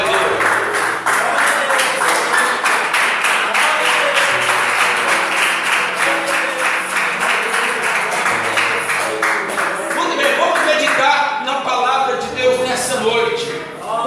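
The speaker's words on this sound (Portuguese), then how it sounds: "Pode sentar, batendo palmas e dando glória a Deus." A church congregation claps their hands together in steady, sustained applause during a worship service, loud and continuous with voices mixed in throughout.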